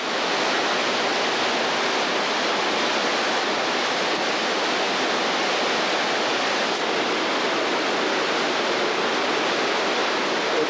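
Water rushes steadily through an open gate at Lime Valley Mill in Lancaster, Pennsylvania, a loud, unbroken broadband roar close by with no voices.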